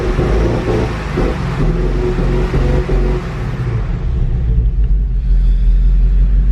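A 2015 Mustang GT engine runs abnormally up close, a loud, uneven low rumble with rough surging pulses that fades and thins toward the end.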